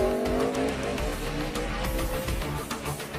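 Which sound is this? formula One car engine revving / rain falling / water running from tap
formula One car engine revving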